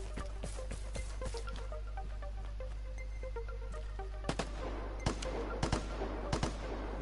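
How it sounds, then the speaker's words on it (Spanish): Gunfire at point-blank range in the video game Vigor, scattered sharp shots cracking over a steady low hum, quieter early and then several close, louder bursts toward the end. "Me están disparando a bocajarro."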